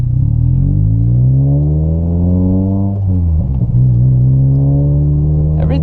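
Engine of a Mazda MX-5 Miata being revved through gear changes after clutch master cylinder and pedal replacement: a loud, close droning note rises in pitch, dips briefly at a shift, then settles into a steady hum.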